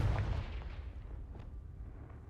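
Confringo explosive spell cast in the video game Hogwarts Legacy: a heavy booming blast with a deep low rumble that decays over a couple of seconds, with no voices.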